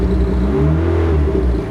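Mazda Miata engine held at a steady 3,000 rpm, a loud continuous mid-pitched hum with slight wavering and no talk over it.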